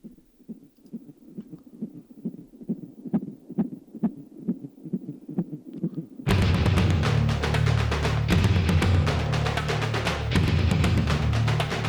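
A metal song plays: a throbbing heartbeat-like pulse for the first six seconds, then loud, dense full-band metal with distorted guitars and drums crashing in and continuing.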